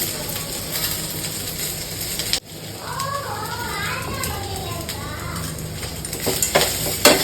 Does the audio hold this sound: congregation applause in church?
no